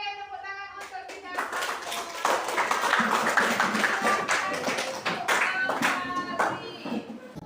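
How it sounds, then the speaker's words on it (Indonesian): A group, including children, claps hands in a classroom session, starting after a brief spoken bit and continuing as loose, uneven clapping with sharp individual claps and some chatter mixed in. "Oke, tepuk tangan untuk kita."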